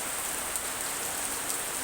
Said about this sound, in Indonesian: Dan beginilah suasananya kalau hujan di kampung.